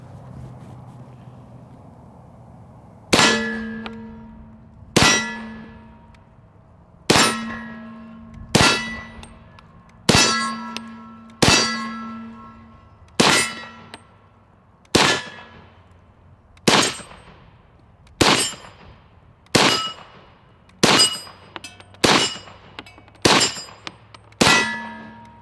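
M1-style air gun, a rusty magazine in use, fires about fifteen sharp metallic clanging shots spaced a second or two apart, each with a short ringing decay, loud and close with no talking.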